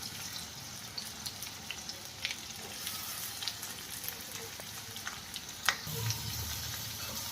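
Onion frying in hot oil in a home kitchen pan, giving a steady, soft sizzling hiss with faint crackles and a few small pops, heard alone at low volume.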